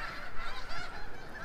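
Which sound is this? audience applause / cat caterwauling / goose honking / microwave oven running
goose honking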